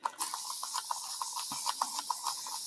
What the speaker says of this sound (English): Get some spray on it.